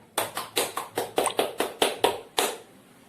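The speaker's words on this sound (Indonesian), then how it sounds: "Ibu minta kita sama-sama tepuk tangan untuk kita semua." A classroom of students claps together in unison, about ten sharp, evenly spaced group claps ringing out clearly, with no talking over them.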